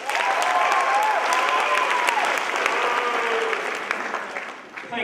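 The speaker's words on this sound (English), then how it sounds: "Please give him a warm round of applause." Audience at a comedy debate in Sydney applauding, a dense, steady wash of clapping that holds for several seconds and then begins to thin out toward the end.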